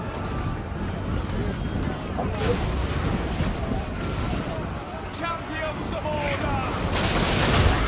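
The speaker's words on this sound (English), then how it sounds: "Oh, artillery strikes are not good." Rapid gunfire and artillery strikes crackle in a Total War Warhammer 2 battle, a dense, continuous barrage of overlapping shots and distant booms that swells near the end.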